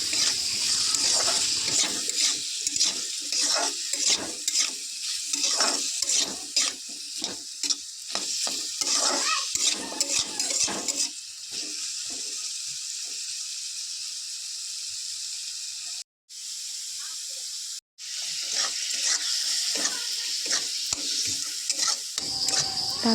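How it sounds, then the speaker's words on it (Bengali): Potatoes sizzling and being stirred in a pan, a busy hiss with repeated scraping strokes early on, settling into a steadier frying hiss with a couple of brief dropouts. "এখানে আলু ভাজা করছিলাম।"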